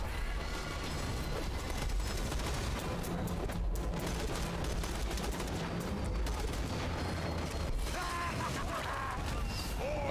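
Dense, continuous gunfire in the video game Borderlands 2, a steady barrage of shots and explosions filling the whole stretch with no talk over it.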